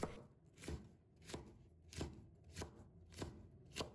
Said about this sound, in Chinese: 再改刀把它切成小块